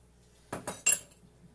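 A spoon clinks against a bowl three times in quick succession, close and fairly loud, with quiet in between and no talking, while mixing onion with salt and sugar.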